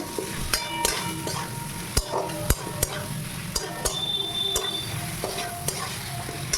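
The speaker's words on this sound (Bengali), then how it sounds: "একটু পাঁচফোড়ন কষিয়ে নেব" Panch phoron spices fry in hot oil with a steady sizzle, broken by regular metallic clinks and scrapes of a spatula stirring the pan up close.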